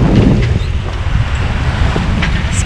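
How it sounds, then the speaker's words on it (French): Wind roars and buffets a microphone outdoors on a 28-foot sailboat at sea in the Pacific, a constant low rumble with gusty surges. "Là, enfin, j'ai du vent."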